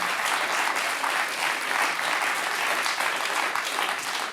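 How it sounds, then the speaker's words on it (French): A studio audience on a French TV talk show claps steadily, a dense even wash of applause that holds at the same level throughout. "le public rit, applaudit"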